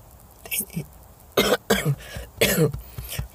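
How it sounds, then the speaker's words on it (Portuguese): A man coughs in several harsh, separate bursts with brief pauses between them, close to the microphone and without speech. "a minha tosse aqui, cara, que parece que eu vou ficar gripado aí já"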